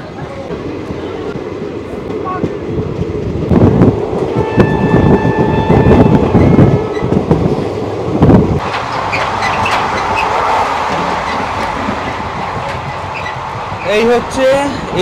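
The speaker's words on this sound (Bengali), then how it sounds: "ট্রেন ছেড়ে দিয়েছে।" The 13113 Hazarduari Express from Kolkata to Lalgola pulls away after a one-minute halt, heard from inside an AC chair car as a loud, steady rumble with rhythmic wheel clatter and a brief squeal near the end, while people talk nearby.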